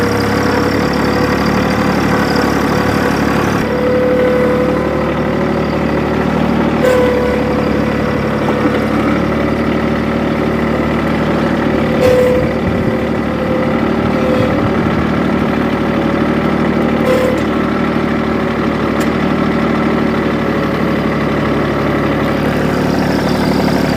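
A tractor engine idles with a Weighsafe fixed-scale hitch mounted in its rear receiver, giving a steady, close, continuous low hum that runs unchanged throughout without any talking.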